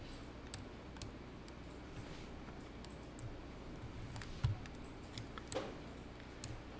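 Faint, sparse clicks of a computer mouse sound at irregular intervals against a quiet room background.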